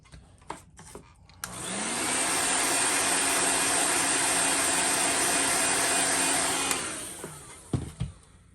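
A heat gun runs for about five seconds, a steady loud blowing whoosh that switches on, holds evenly and cuts off, used to heat-set fresh paint on a fishing lure, with a few knocks before and after.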